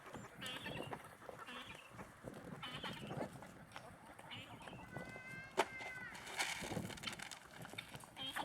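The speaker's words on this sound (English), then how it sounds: "Pygmy goat." A pygmy goat bleats several times in short wavering calls, fairly close, amid outdoor farm noise and some background talk.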